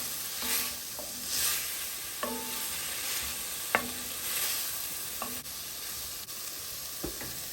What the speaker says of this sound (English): So I went ahead and added my deliciously seasoned shrimp. Oh my goodness, let's stir it in.